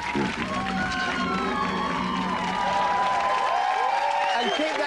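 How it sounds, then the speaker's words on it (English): Studio audience applauding and cheering on a 1993 Channel 4 TV show, a dense wash of clapping with whoops, loud and sustained, under a presenter's voice. "keep that applause going, keep it going for the man who starred in that film"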